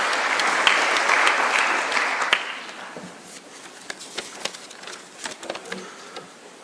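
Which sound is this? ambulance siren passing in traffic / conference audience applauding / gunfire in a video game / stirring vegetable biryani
conference audience applauding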